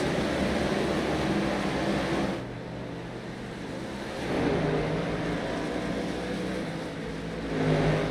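Racing car engines roar in a Cup Series race at Motegi in a video game, the sound swelling and easing as cars pass, with a steady low drone in between.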